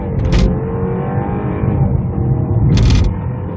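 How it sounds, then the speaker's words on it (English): A 2012 BMW 328i F30 sedan in normal drive mode accelerates hard from 0 to 60 mph up a hill, its engine note steady and loud throughout, heard from inside the cabin with no talking. "I'm going to do kind of like a 0 to 60 acceleration in the normal mode"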